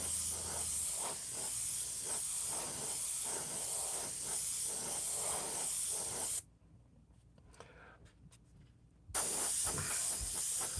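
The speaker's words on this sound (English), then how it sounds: "Spray there now." Spray paint hisses from an aerosol can in long continuous bursts, close and steady, with a pause of near silence before the spraying resumes.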